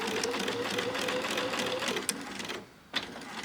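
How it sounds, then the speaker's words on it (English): A sewing machine runs steadily while chain piecing quilt fabric, a close, continuous whirring hum that breaks off briefly near the end and then resumes. "I'm going to chain piece, which means that I'm just going to continue sewing"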